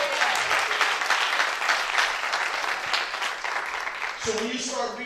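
A congregation claps during a church anniversary service, with sustained applause filling the room and then fading as a voice speaks over the tail end.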